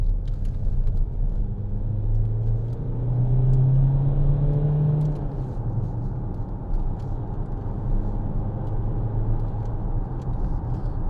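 A 2014 Vauxhall Insignia 2.0 CDTi diesel accelerates, heard from inside the cabin as a low, steady engine rumble with a brief rising drone under road noise.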